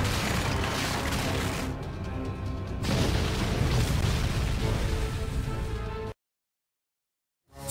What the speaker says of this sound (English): the beams erupted into a huge magical explosion